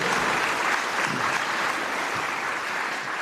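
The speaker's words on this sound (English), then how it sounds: "Another round of applause, ladies and gentlemen" Dense, steady applause from an audience at a tenth-anniversary community celebration, a continuous wash of many hands clapping at even loudness throughout, with no voices standing out.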